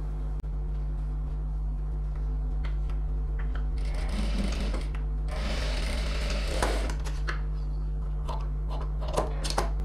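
A sewing machine runs a steady stitch through fabric for a double seam on a silk pavadai, a faint continuous mechanical whir with brief rattling bursts, heard close and without talk.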